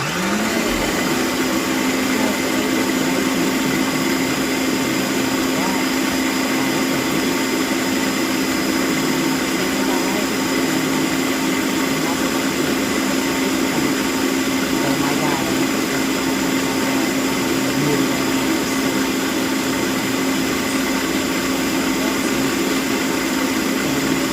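A food processor grinding beans into a bean pie filling, giving a loud, continuous motor whine with a steady pitch that runs unbroken throughout.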